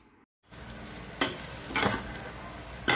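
Pork fried rice stirred in a hot pan: after a brief silence comes a continuous close sizzle broken by three scraping stirs, with no talk.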